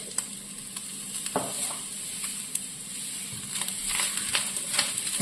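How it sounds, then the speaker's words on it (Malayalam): Shallots, garlic, dried chilies and peppercorns frying in oil, with a steady bright hiss and repeated spoon scrapes and taps against the pan, close and alone. "ഒരു ഗോൾഡൻ ബ്രൗൺ കളർ ആവുന്നത് വരെ നമുക്കിതൊന്ന് ഇളക്കി കൊടുക്കണം."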